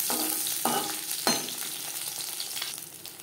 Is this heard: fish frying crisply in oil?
yes